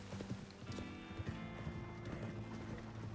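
Hooves of a wild horse in the Red Dead Redemption 2 video game thud softly and irregularly across open ground, faint and somewhat distant beneath steady outdoor ambience, with a brief neigh-like tone partway through.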